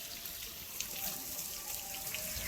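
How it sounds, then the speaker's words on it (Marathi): Tap water runs into a filling household water tank, a soft steady splashing flow with faint drips, fairly quiet and continuous, with no talk. "किती पाणी चालले"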